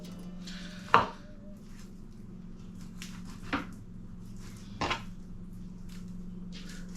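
Kitchen knife cutting chicken meat off the bone on a board, three distinct sharp chopping knocks spaced a few seconds apart against a quiet room hum, no talking.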